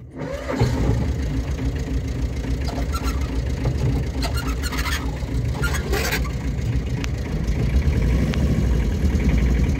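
A Tata Ace mini truck engine starts and runs at a steady mid-pitched idle with continuous rumble and occasional revving, close and loud, with no talk over it.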